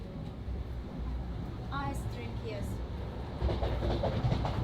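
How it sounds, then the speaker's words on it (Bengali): A passenger train travels through Azerbaijan with a steady low rumble and rolling wheel noise throughout, a few faint squeals and chimes, and a slight rise in rumble near the end. Voices are heard in the background. "ট্রেন দিয়ে আমরা যাচ্ছি"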